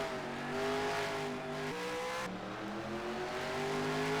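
Demolition derby cars run on a track with engines droning and revving in layered, shifting tones, loud and steady without voices on top.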